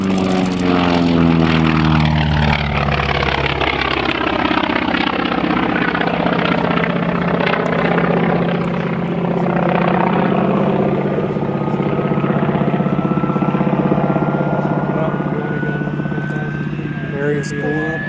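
A Grumman Wildcat fighter plane flies at an air show with a loud, sustained propeller and engine roar whose pitch sweeps as it passes. The roar continues for the whole stretch.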